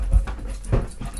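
A dog makes short, soft whimpering sounds with a few breathy bursts close by, brief and slightly restless, with no talking over them.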